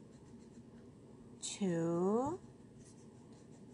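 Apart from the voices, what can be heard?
coloring piano keys with a black crayon on paper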